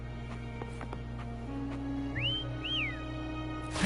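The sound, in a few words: whistling in the video game Wuthering Waves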